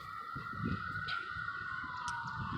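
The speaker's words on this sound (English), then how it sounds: "There's a ambulance in the background." Distant ambulance siren outside the University of Michigan Hospital in Ann Arbor, a steady wail held faint in the background over low street rumble, with no talking.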